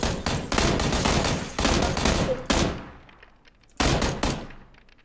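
Heavy automatic gunfire in the video game PUBG, loud rapid bursts over the first three seconds, then a short lull and another sharp volley, with no talking.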